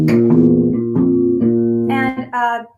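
A bass guitar plays a 12-bar blues walking line, a handful of sustained plucked notes stepping upward, close and clear with no talking over it.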